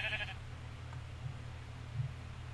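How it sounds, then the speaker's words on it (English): A sheep bleats briefly in a farming video game, one short faint call at the start over a steady low background hum. "So, we've got our two sheep."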